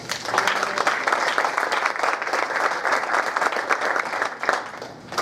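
Sustained applause from an evening audience at a faculty award lecture, dense and steady for the whole stretch, fairly near and loud with no one speaking over it.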